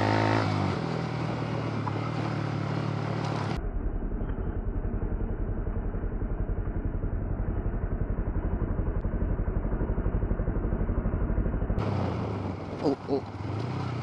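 Yamaha R15 V3 superbike riding along, its engine a steady close pulsing drone that runs continuously, with a brief burst of louder wind and rumble at the start and end.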